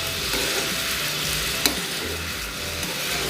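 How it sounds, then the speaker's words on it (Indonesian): Sugar and water heat in a pan on the stove, giving a continuous close sizzle with faint stirring and one small clink, and no talking. "Tunggu sampai mendidih, hancur semua gulanya, mengental."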